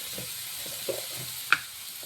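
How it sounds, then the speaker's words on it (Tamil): Tomatoes with salt and turmeric sauté in a pan, giving a quiet, steady sizzle broken by a few soft stirring scrapes and one sharper clink of the utensil. "கொஞ்சம் உப்பும் போட்டு வதக்கணும்"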